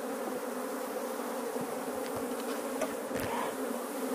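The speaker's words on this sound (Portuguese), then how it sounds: "Mas o enxame está se desenvolvendo." Steady, dense buzzing of a developing bee swarm at a swarm trap, a continuous close drone with occasional louder passes of individual bees, no voices.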